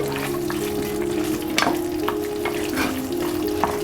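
Mutton masala simmering and sizzling in a pan, a steady close bubbling fry with several sharp stirring scrapes and clinks scattered through.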